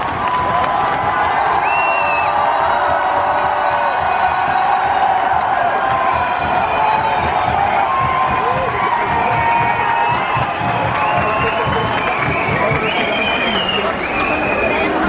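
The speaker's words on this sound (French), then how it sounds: "Ce qui n'empêche pas à la foule d'imposer une quasi-ambiance de fête" A festive protest crowd near the Assemblée Nationale metro in Paris, cheering, whistling and shouting in a loud, continuous roar for fifteen seconds, with some whoops rising above it and no separate voice in front.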